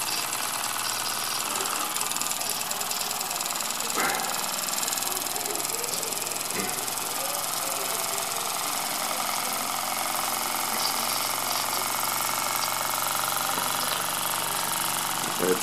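A 1920s Joseph Falk overtype steam engine runs with a steady mechanical chatter and faint periodic knocks, close by, with voices talking over it throughout.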